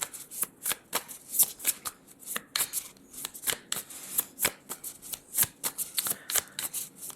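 Tarot cards shuffled by hand in quick, crisp riffling bursts, a rapid irregular patter of sharp card snaps close up, continuing for several seconds with no voice.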